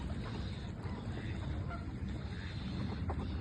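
A large flock of wild waterfowl calls in a steady, dense chorus of honks and quacks from mid-distance over a constant low rumble, with no clear talk.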